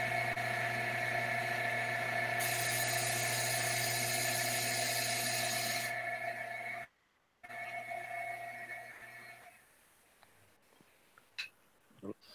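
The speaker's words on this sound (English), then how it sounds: "That was the sound of a vibrator." A vibrator gives a steady, loud electric buzz with a constant hum that runs for several seconds, cuts out abruptly, then returns more faintly amid background noise.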